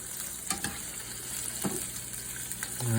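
Sweet onions and ground turkey are stirred in a hot pan, giving a loud continuous sizzle with occasional scraping strokes of a utensil, building slightly toward the end.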